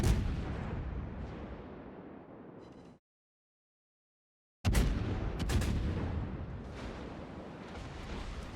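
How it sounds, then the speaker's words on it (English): Heavy naval guns boom in World of Warships during a match involving the Des Moines, loud rumbling blasts with a sudden silence partway, then sharp fresh salvos and long rolling decay. "Some shots coming up from the north."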